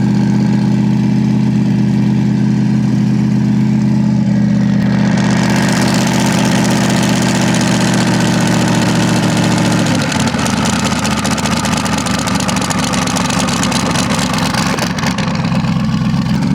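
A twin-turbo LS 5.3 V8 engine runs loud and close, a deep steady idle rising into a harsher, higher rev partway through with no talk.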